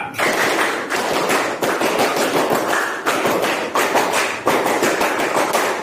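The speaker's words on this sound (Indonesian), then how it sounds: "2 kali tepuk pramuka." Indonesian scout-style rhythmic clapping, tepuk pramuka, performed twice by a group, loud sharp claps in a quick patterned rhythm, each round ending with a short pause.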